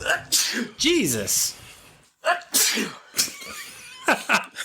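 A man sneezes sharply in the middle of a casual conversation among several people, with talk continuing before and after the loud, close burst.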